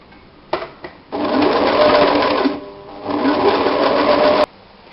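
Close, loud sewing machine running a zigzag stitch in two steady bursts separated by a short pause, with a few mechanical clicks at the start.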